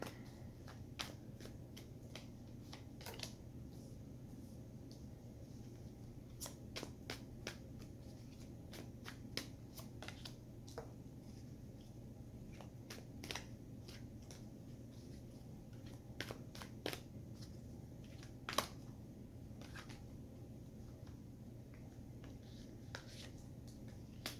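Tarot cards being shuffled during a reading: a long run of quiet, scattered flicks and riffles over a steady low hum, irregularly spaced and faint, with no speech.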